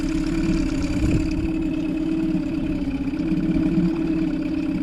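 Outboard boat engine running with its leg in a bucket of water for a post-winter check, a loud steady idling drone with an even hum and light churning, continuous throughout.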